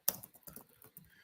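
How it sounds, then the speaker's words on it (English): Typing on a computer keyboard: a quick run of close, crisp key clicks in an irregular rhythm, alone and fairly quiet. "while you're typing, I know you'll have to type it live"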